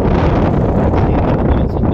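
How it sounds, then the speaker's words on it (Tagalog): Strong wind gusting across an outdoor shipyard in bad weather, loud steady roar buffeting the microphone with no pauses. "maya maya dito na naman yung hangin"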